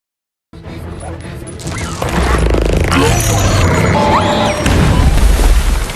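A bomb blows up a raptor in a dinosaur film: a loud, sustained explosion that starts abruptly with a heavy boom and continues as rumbling, crashing blasts for several seconds.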